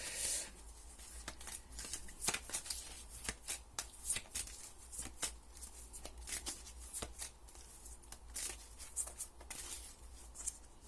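Oracle cards being shuffled for a reading, a close, continuous run of papery riffles and slides with frequent sharp snaps in an uneven rhythm, steady and without voices.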